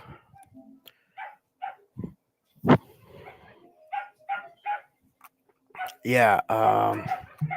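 Dogs barking in short bursts, one sharp bark standing out, then a run of loud, close barking near the end.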